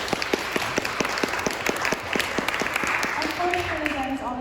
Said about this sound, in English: Round of applause for our panelists, please.